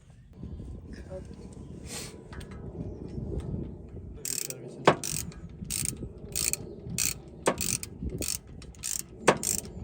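A ratchet clicks in short bursts tightening exhaust nuts on a Honda Civic, with sharp close ticking and faint low talk underneath.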